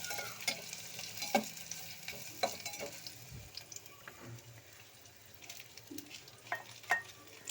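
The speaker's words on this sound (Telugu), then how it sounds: "చిన్న తరుముకున్న ఉల్లిపాయలు వేసేసాను." Finely chopped onions fry in a pan for Maggi noodles, a faint, steady sizzle broken by occasional soft clinks and stirring taps, with no voices.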